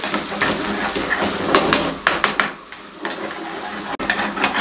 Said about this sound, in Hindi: ये प्याज को हमने चॉप किया था ये शामिल कर दें और इसको 3 से 4 मिनट मीडियम फ्लेम पे इस तरीके से इसके अंदर अच्छे तरीके से फ्राई कर लें